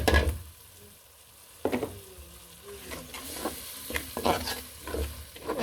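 Spices, onion, garlic and green chili paste frying in a pan, with a steady sizzle and repeated scraping stirs of the spoon, close and moderately loud, no talking.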